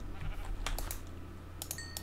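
A sheep bleating in Minecraft, a short bleat followed by a couple of sharper bleats near the end, set against a steady low background hum.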